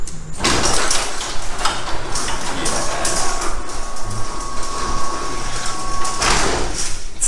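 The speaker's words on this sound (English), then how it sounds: "I'm gonna press this button here, and the garage door opener should open" A garage door opener running: a steady mechanical rumble and drone continues loud and close for several seconds with a faint hum, and no voices.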